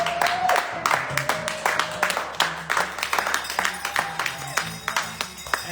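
Applause for volunteers at a telethon: steady, dense clapping from a studio crowd, sustained throughout, with a few voices and cheers mixed in.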